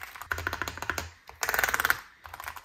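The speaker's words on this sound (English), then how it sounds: "This is one of the coolest HallEffect keyboards I've ever tried, and it also sounds amazingly good." Someone types on a Meletrix Boog 75, a pre-built wired Hall effect keyboard with a compact layout, in two quick runs of crisp, close keystrokes separated by a short pause.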